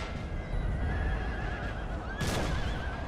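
Cavalry horses neigh in a Napoleon: Total War battle, a wavering whinny rising over dense battlefield noise and hoof clatter, with a second louder call near the end.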